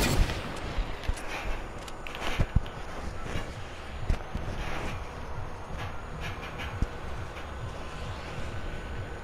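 A rapid scatter of gunshots in Fortnite crackles over a constant rumbling game din, with sharp cracks landing irregularly, some in quick bursts and a few standing out louder, at a moderate distance throughout.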